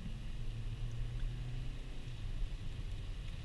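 A 2013 Honda Civic LX automatic sedan driving in poor weather: a steady low engine and road drone with constant broadband cabin noise, no speech.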